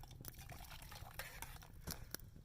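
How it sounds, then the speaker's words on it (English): Bean soup gets a final stir in a pot over a stick stove at a winter mountain camp, with faint soft sloshing and scraping, quiet and close, punctuated by a few light clinks of the utensil. "Let's give it a last little bit of a stir."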